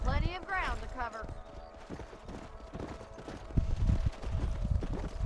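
Horses ridden at a steady clip in the Western video game Red Dead Redemption, with rhythmic hoofbeats throughout, a brief whinny-like call near the start and a voice talking over the galloping.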